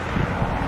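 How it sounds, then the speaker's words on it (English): Steady wind buffeting the microphone outdoors on a cold day at a New York grave site, a constant low rumble with occasional gusts, no voices. "is so windy out right now"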